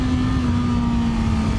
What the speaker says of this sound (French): Alors là je vais baisser d'une vitesse. Tac. Et la boost.